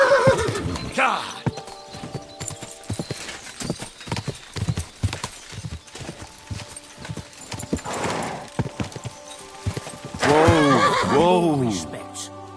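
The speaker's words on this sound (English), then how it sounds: "I found that stolen horse of yours." Horse hooves clip-clop steadily in the medieval video game Kingdom Come, with loud neighing and whinnying at the start and near the end, mixed with game sounds and some talk.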